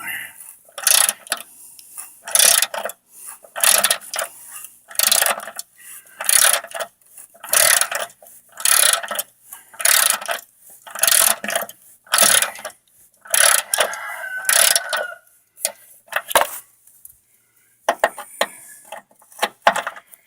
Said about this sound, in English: Once you get it a little loose, you can pretty much just take the ratchet and unscrew it.